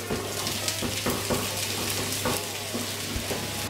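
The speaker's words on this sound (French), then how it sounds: "Mes légumes étant découpés, je vais maintenant les faire revenir" Vegetables sautéing in a pan for a hummus tart, a steady close sizzle with small crackles and occasional stirring scrapes, no voices.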